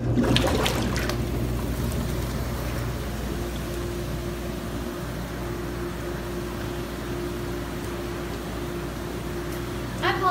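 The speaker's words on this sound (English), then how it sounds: "I'm gonna go ahead and turn on the jets so you guys can see how much it bubbles up" Bathtub jets churn the water into a steady, close bubbling rush after a bath bomb is dropped in, a dense continuous wash with a brief louder splash at the start.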